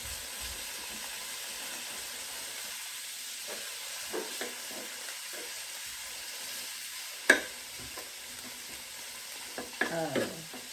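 Leftover salmon is chopped up and fried with peppers and onions in a pan, a soft steady sizzle under intermittent utensil scrapes and a sharp knock near the end, quiet and close, with no talk.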